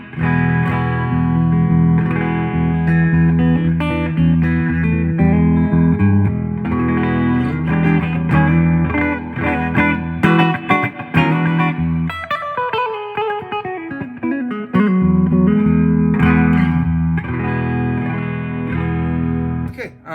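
An electric guitar plays chords and a descending run drenched in reverb, notes ringing and blurring together for a long stretch.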